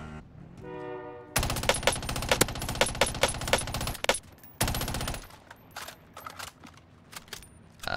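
Automatic rifle fire in a Warzone match cracks out in loud, dense bursts, followed by a pause and then scattered single shots and short volleys, close and dominant, with no voices over it.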